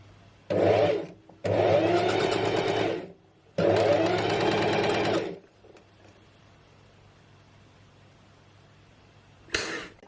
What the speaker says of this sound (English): that is the first time I have sewn something on a sewing machine